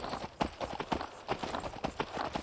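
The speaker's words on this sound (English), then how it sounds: "let's go ahead and ride the horse" Horse hooves clip-clop steadily at a brisk walking rhythm while riding in the video game Skyrim, close and fairly loud, with no speech.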